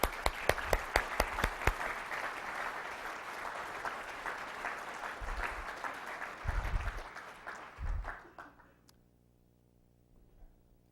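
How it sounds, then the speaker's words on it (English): An audience applauds in a burst of clapping that rises quickly, holds as a dense patter, then thins and fades out near the end. "Give yourself a round of applause."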